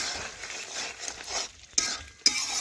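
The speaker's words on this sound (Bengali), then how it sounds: "এইভাবে নাড়াচাড়া করে নিচ্ছি। নাড়াচাড়া করতে করতে দেখুন অনেকটাই শুকিয়ে যাবে।" A spoon stirs and scrapes chicken kosha in a pan while the water cooks off, a continuous close sizzle broken by two sharp metallic clinks near the end, with no talking.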